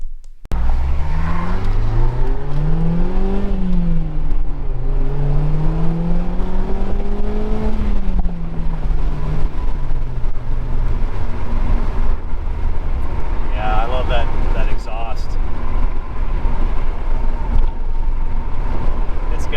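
A small car's engine with a deep, throaty exhaust, revving and rising and falling in pitch before settling to a steady drone, loud and close, with brief higher squeaks near the end.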